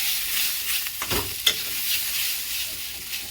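Spices with cumin powder stirred in a frying pan, a steady sizzle with a scraping stroke and a sharp clink of the spatula against the pan midway; no voices.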